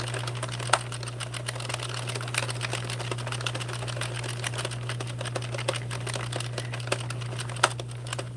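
A 48-pin Sentro-style circular knitting machine cranking out a beanie, giving a steady close clatter of small ticks over a constant low hum, faint and even throughout with no talking.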